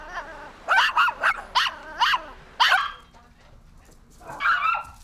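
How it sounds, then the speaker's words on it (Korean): Two dogs in a car bark furiously at a gas station attendant, firing a quick run of loud, close barks and yips. A pause follows, then a final bark. "기름을 넣고 나올 때까지 주유원을 향해 맹렬히 짖는다"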